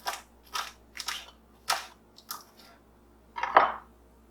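Kale being sliced into ribbons for a winter salad, five crisp knife strokes in an even rhythm followed by a louder chop, close and clear with no talking.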